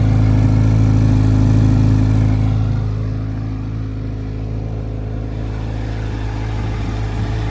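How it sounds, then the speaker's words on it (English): A 2023 Chevrolet Corvette Z06 3LZ with its 5.5-litre engine idles loudly close by, a steady deep exhaust rumble that eases slightly in level partway through and then holds even, with no talking. "That exhaust is crazy loud."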